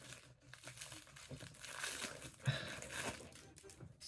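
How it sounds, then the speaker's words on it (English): Plastic haul bags rustle and crinkle steadily for about four seconds, a close, continuous crackling with a few louder crunches and no one speaking. "Sorry for the rustling of the bags."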